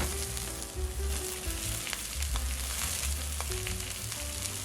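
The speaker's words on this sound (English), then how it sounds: "Hot rice. You must use hot rice." Hot rice fries for sausage fried rice with a loud, steady sizzle and crackle in the pan and occasional stirring, close by and with no talking.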